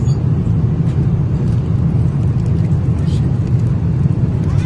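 Steady, loud airliner cabin drone during a flight from Islamabad to Dubai. A dense, low rumble holds constant throughout, with faint higher hiss above it.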